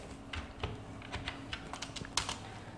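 Computer keys are pressed in a quick run of light clicky taps during accounting software data entry, close and fairly quiet, with one sharper click near the end.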